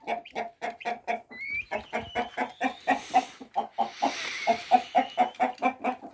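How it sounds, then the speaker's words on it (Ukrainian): Hens cluck steadily in a rapid, repeated rhythm, with one of three roosters giving a brief higher call over the flock partway through. "Тут бачу я три півники є"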